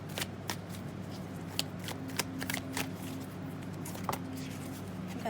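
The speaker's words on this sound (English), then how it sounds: "Shuffle one more time." Tarot cards being shuffled during a reading, with a steady papery riffle and scattered crisp card snaps over low background hum, close and moderately loud with no talking.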